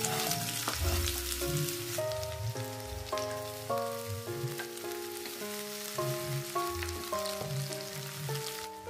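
Shallots, garlic and shrimp paste sauté in a pan with a continuous crackling sizzle, heard close up under steady background music, with no talk.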